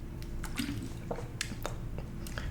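Someone sips a drink of water close up, a few wet slurping and squishy liquid sounds in short irregular bursts over quiet background.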